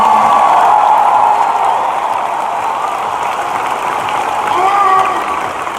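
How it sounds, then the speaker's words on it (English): A crowd at a college gymnastics meet applauds loudly and cheers as the Utah State team is welcomed. The noise is a thick, continuous roar with voices mixed in and swells near the end. "Could you please give Utah State a great round of applause for coming in?"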